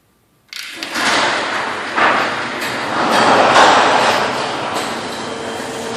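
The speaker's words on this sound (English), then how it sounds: "Here's two 9x8 doors, which I'll be raising here." Two 9x8 Clopay garage doors rise together on a LiftMaster 8550 opener, starting abruptly with a loud, steady rumbling rattle of rollers in track that swells and holds throughout, with no talking.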